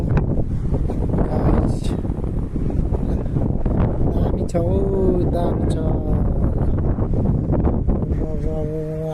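Wind buffets the microphone in an outdoor park, a steady low rumble and rushing that runs through the whole stretch beneath someone talking casually.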